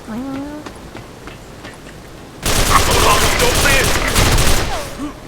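Gunfire in the video game Special Force 2 (SF2): after a stretch of quieter sound with a voice, a loud, sustained burst of rapid automatic fire fills the rest of the moment.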